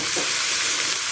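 Spaghetti sauce with liver spread being stirred in a frying pan, a steady close sizzle and frying hiss with faint scraping of the spoon throughout.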